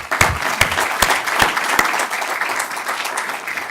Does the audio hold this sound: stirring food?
no